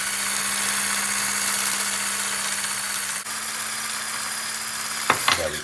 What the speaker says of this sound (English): A hand blender, I'm just doing this automatic one to speed things along a little bit.